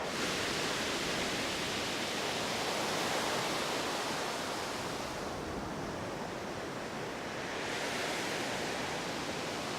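Steady, dense rush of falling water from a waterfall near a secluded beach, a constant broadband roar that barely changes, with no one talking.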